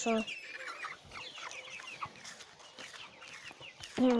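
Newly bought chickens and a rooster cluck and squawk steadily at close range, with a louder sharp call at the start and another at the end.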